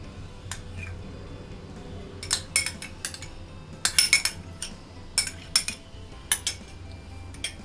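A spoon clinks repeatedly against a mixing bowl as ghee is added to flour for labanga lata dough: sharp, close metallic taps in irregular bursts over a low background rumble.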